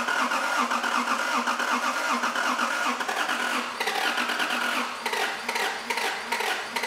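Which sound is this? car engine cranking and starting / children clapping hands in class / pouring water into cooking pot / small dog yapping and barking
car engine cranking and starting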